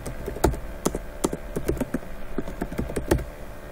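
Typing on a computer keyboard, a series of distinct close clicks and taps at an uneven pace, about a dozen keystrokes with some louder presses, alone without talk.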